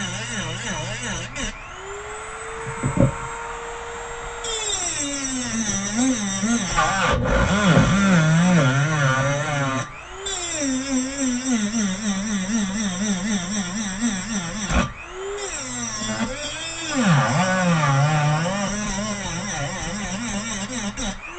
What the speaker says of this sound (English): Love that little Dremel.